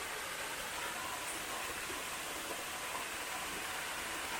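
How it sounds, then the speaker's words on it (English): A small waterfall on the Ozark Highlands Trail gives off a steady, even rush of falling water, constant and fairly soft, with no voices. "Nice little waterfall."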